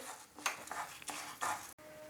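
Fried moong dal is scraped from a pan onto a plate, giving a few faint metal clinks and scrapes of utensil against cookware in a quiet kitchen.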